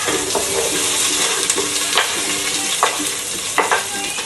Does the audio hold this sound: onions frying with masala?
yes